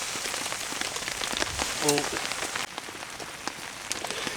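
Steady rain falling outdoors at a winter hammock campsite, a constant dense patter on surfaces throughout, with a brief spoken word partway through.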